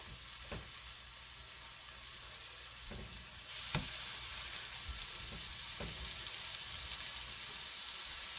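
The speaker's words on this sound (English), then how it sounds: "I know these are going to sizzle right away" Meat patties sizzle in a hot pan, a steady crackling hiss that jumps louder partway through, with occasional soft knocks and scrapes.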